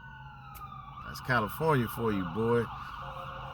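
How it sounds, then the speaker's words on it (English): Emergency sirens wailing in the background, several rising and falling sweeps in quick succession, moderately loud, with a voice talking over them. "I know y'all hear the sirens in the background"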